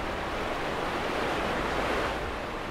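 A waterfall pouring into a pool in the video game Thief gives a steady, dense roar of rushing water, constant and fairly loud with no other sounds.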